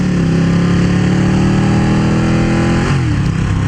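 A steady motorcycle engine drone runs throughout, loud and close, with a slight drop in pitch near the end as it eases off.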